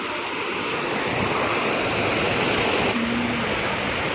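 River water rushing beneath a small bridge near a temple, a steady, loud, broadband wash of flowing current that runs continuously without pause.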